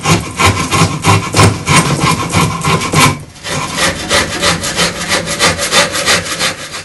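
Surform rasp shaping yew or ash for a Windsor chair, with loud, close back-and-forth rasping strokes in a steady rhythm, a brief pause midway, then more strokes.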